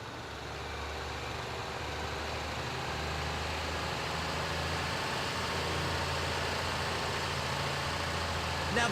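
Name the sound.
handler heavy port vehicle engine idling in GTA V video game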